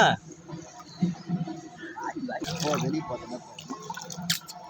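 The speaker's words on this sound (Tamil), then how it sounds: "தண்ணியில் நீச்சல் அடிக்கிறா" Water splashes and sloshes irregularly as someone swims nearby, with voices talking over the splashing.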